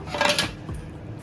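A lid set onto a cooking pot of fish curry with okra and potato makes a quick metallic clatter and scrape, close, followed by a fainter clink.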